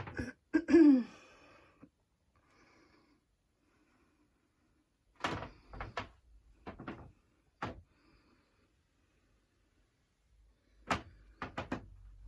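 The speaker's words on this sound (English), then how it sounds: "I have creaky floorboards." Wooden floorboards in an old house built around 1881 creak and groan underfoot in several short separate bursts, close by and with quiet gaps between them.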